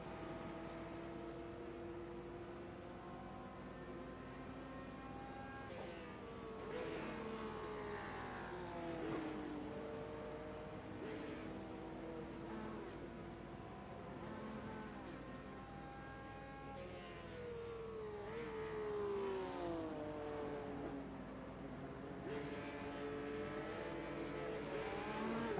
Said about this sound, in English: Engines revving as they get ready to roll out of pit lane, and away they go.